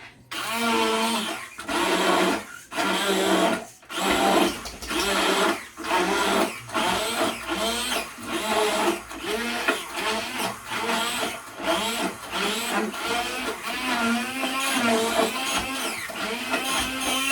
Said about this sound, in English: what I'm going to do now is whisk it all up